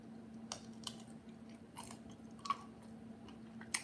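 Crunchy uncooked broccolini being chewed close up, with a few sharp crisp bites standing out over a quiet steady hum.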